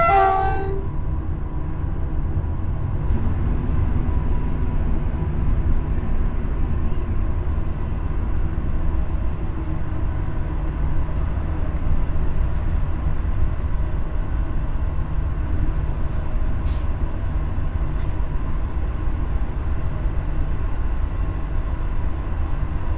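A BB75400 locomotive runs through the 704-metre Géraphie tunnel on the Vierzon–Limoges line, heard from the cab as a loud, steady low rumble and roar with a brief horn-like tone at the start and faint clicks later.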